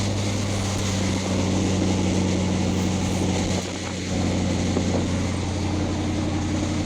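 A 1979 Ford F100 pickup with a 4.6 engine and air suspension cruises at nearly 50 mph, giving a steady roar of engine, wind and road noise with a constant low hum. There is no speech, and the sound dips briefly midway.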